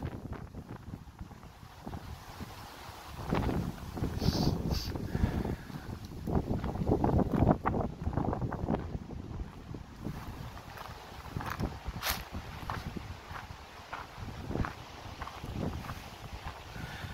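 Strong gusty wind buffets the microphone outdoors in a cemetery, a steady rumbling roar that swells between about three and ten seconds and then eases back, with no voices heard.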